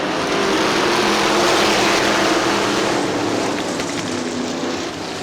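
IMCA modified race cars run a heat race at Crystal Motor Speedway in Michigan, a steady, loud, blended engine roar from the pack that carries on without a break and with no talk.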